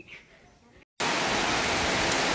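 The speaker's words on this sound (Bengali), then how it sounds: "দেখেন কি পরিমাণ বৃষ্টি নামছে" Steady, dense hiss of heavy monsoon-season rain pouring down on a village home, loud and continuous after a brief quieter stretch with a short gap of silence.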